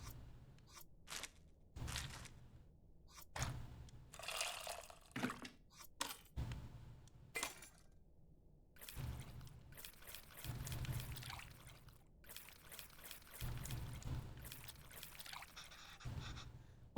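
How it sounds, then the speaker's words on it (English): Tamarind being mixed with water in a bowl in the cooking game Venba, heard as intermittent liquid pouring and trickling in bursts with short quiet gaps between, moderately close. "It looks like I have to mix the tamarind, with the water to extract its essence multiple times."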